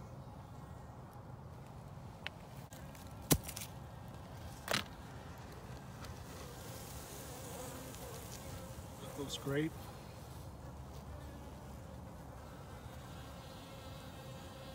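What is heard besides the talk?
honeybees buzzing at a beehive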